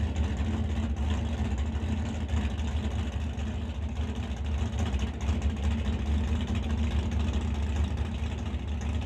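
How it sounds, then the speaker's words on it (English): Dustin Brewington's Chevy Camaro drag car rolling up to the Lordco starting lane at the DOORWARZ 11 drag racing event, a low, steady engine rumble heard at a distance over a constant background roar. "Dustin Brewington bringing up the Chevy Camaro over in that Lordco lane"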